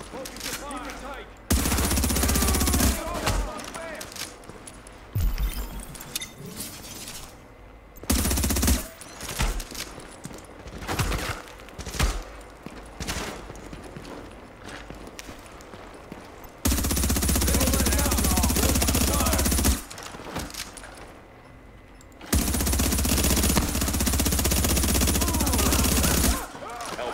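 Rapid automatic gunfire from the video game The Division comes in long loud bursts, broken by short quieter gaps with scattered shots and voices talking over the action.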